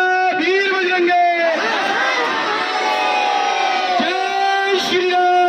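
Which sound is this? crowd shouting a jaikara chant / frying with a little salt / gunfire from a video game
crowd shouting a jaikara chant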